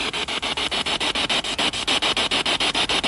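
A spirit box radio sweeping through stations, producing loud continuous hiss and static chopped into rapid, regular bursts several times a second, steady and close throughout.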